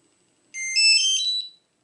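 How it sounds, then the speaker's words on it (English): A Cino Bluetooth barcode scanner gives a short, bright electronic beep pair after sending its data, a quick high tone that starts abruptly and ends within a second against near silence. "the scanner will emit two short beeps after data transmission is completed"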